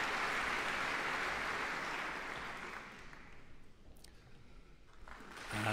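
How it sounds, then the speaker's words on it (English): A concert hall audience at the Royal Festival Hall applauds the leader of the Royal Philharmonic Orchestra, a dense, steady wash of clapping that starts full and thins toward the end. "That applause for the leader of the Royal Philharmonic,"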